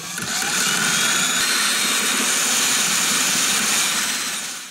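A drill spins against the drive shaft of an Ariens self-propelled lawnmower, scrubbing off built-up gunk: a loud, steady, close-up whirring grind that holds unbroken for about five seconds with no talking.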